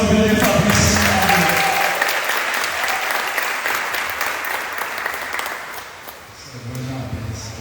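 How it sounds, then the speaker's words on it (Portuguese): Church congregation clapping during a celebration service, sustained loud applause filling the room, fading slightly near the end as a voice returns underneath. "Eu gostaria de vocês aplaudirem o Senhor"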